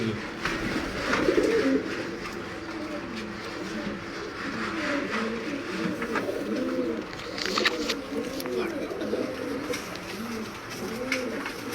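Sialkoti pigeons in a breeder's loft coo steadily in overlapping, rolling throaty calls, several birds at once and close by, with a faint hum of background traffic.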